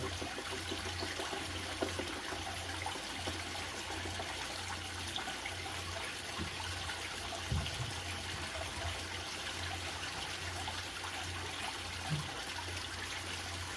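Recovery tank silts are poured out into a finishing pan, a steady quiet trickle and slosh of water running continuously, with a couple of faint knocks of the container.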